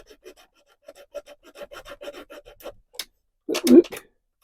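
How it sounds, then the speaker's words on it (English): A thin-bladed hobby saw cuts through wood while building a 1:84 Santisima Trinidad model ship hull, giving a run of quick, close rasping strokes followed by a louder burst of sawing near the end. "these saws, it's only a little thin blade"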